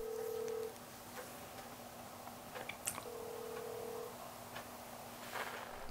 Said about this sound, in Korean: 혹시나 하는 마음으로 기다려보지만 신호음만 계속됩니다.